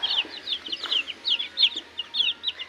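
A group of chicks chirping steadily in a new coop, with rapid high peeps overlapping close by in quick irregular bursts.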